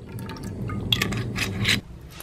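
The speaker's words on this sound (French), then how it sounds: "Je verse la crème sur mon chocolat." Hot cream infused with orange-blossom water poured over chocolate for a ganache, giving wet dripping and squishing splashes in uneven bursts, close and moderately loud with no talk.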